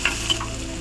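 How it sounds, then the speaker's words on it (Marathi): Onion and tomato sautéing in a hot pan while cooking khichdi, a short burst of steady sizzling with a couple of light stirring ticks. "आता यामध्ये घालत आहे टोमॅटो हे टोमॅटो थोडंसं भाजून घेऊया"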